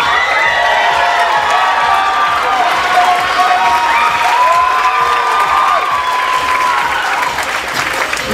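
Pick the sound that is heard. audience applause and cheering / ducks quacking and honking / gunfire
audience applause and cheering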